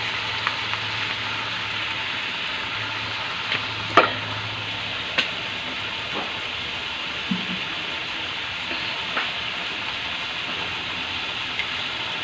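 Garlic and potatoes browning in a pan for a mussel dish as oyster sauce goes in, giving a steady, even sizzle with a few sharp utensil clicks and no talking.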